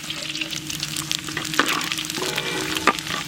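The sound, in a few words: whole garam masala and cumin sizzling in hot oil in wok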